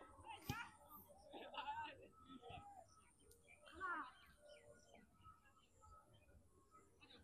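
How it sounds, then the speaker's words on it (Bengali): Several kinds of birds chirp and call in short, scattered bursts outdoors, fairly faint, with a steady background hum. "কত ধরনের যে পাখি ডাকছে এখানে"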